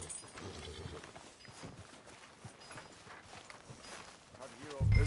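Horse hooves clip-clop at a walking pace in a video game, a soft, steady rhythm under a noisy ambient backdrop, with a louder thump at the very end.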